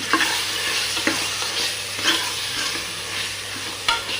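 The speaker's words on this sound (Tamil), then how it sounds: "இது கூட கொஞ்சமாக மஞ்சள் தூள் ஆட் பண்ணி நல்லா கலரி விட்டுக்கோங்க" Chili powder and turmeric being stirred into a hot frying pan for a mushroom biryani masala, a loud continuous sizzle with several distinct spatula scrapes, close up and without speech.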